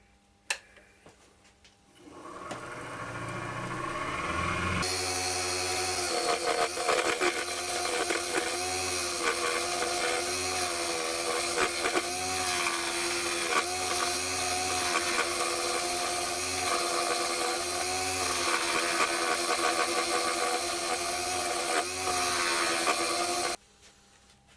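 A wood lathe turns a natural-edge ash bowl blank, a loud steady whir with rising and falling tool-scraping tones as the gouge rounds and faces the piece, starting after a brief quiet lead-in and cutting off near the end.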